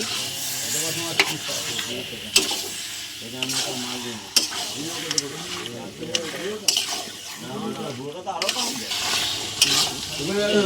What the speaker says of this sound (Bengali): তো এবার আমরা মাংসটা দিয়ে দেবো, খাসির মাংসটা দিয়ে দেবো। ভালো করে কষিয়ে নেব।